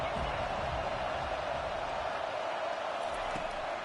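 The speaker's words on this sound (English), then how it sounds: "Decibels rising as the crowd gets behind this defense on 3rd down." Roaring football stadium crowd during a college game, a steady loud wash of cheering noise building on a third-down defensive play, with no break throughout.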